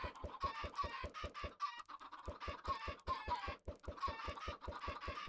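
Chickens in the Minecraft video game clucking in a steady, rapid series of short, evenly spaced calls, close and clear, with a brief gap near the middle before the pattern resumes.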